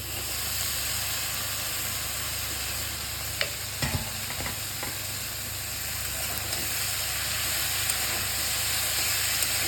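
Steady, close sizzling of ivy gourd frying in a pan with onions, with a few brief scraping stirs partway through and no talking.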